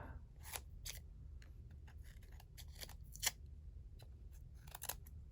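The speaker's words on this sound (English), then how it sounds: "We're going to trim this side." Scissors trimming paper craft cubes, a run of crisp, close snips spaced unevenly across the clip, alone with no talk over a low room hum.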